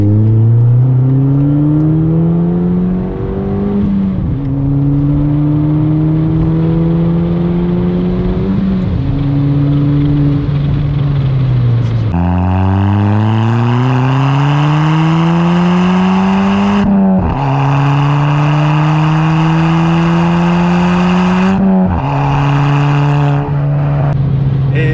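A stock Ford Fiesta ST Mk7.5 drones loudly from inside the cabin at around 3000 rpm at highway speed, its engine note rising and falling with a few brief gear changes and throttle lifts.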